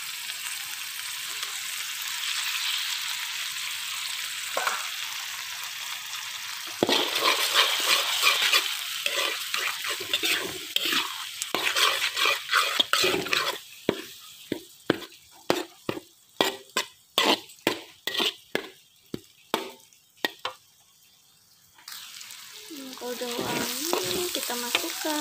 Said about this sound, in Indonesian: Masukkan telur.